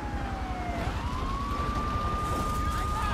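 A police car siren from the video game GTA 3 wails steadily and loudly over a dense, rumbling game soundscape, its pitch dipping and then holding a long sustained tone across the clip.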